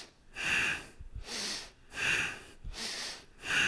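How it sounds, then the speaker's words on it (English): Deep yoga breaths come in a slow, even rhythm, about four loud, airy inhales and exhales in turn, close and alone. "Big full breaths."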